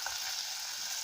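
Garlic with tomato and curry leaves sautés in a pan, a soft brief sizzle and hiss heard faintly and close.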